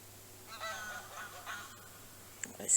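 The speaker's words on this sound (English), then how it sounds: "Almost sounds like them geese are answering this." Several geese honk at a distance by a lake, giving a few scattered calls and then a louder, closer burst of honking at the end, over a quiet outdoor background.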